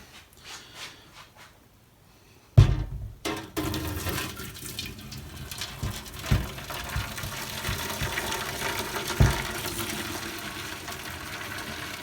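Freshly boiled hot water pours and splashes into a container, a sudden loud start after a quiet moment, then a continuous gurgling rush with occasional knocks, no talking.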